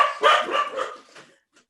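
Several quick dog barks in a short burst at close range, sharp and loud, trailing off into a faint yip.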